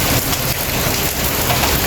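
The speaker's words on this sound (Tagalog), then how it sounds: "ang ulan na to, ganito lang kalakas, ganito lang siya kalakas, pero ano, tuloy-tuloy." Steady rain pours down continuously at a moderate, even intensity, a dense hiss of drops on surfaces filling the whole stretch with no pauses or voices.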